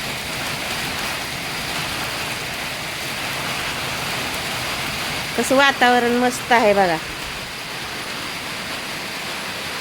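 Rain pours steadily on a village, some of it falling into water, making a constant broad hiss, while someone speaks briefly partway through.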